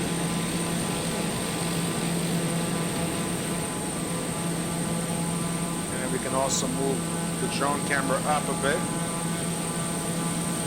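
Steady turboprop drone of a TBM930 single-engine plane in Microsoft Flight Simulator 2020, a constant hum with high whine running throughout while someone talks over it.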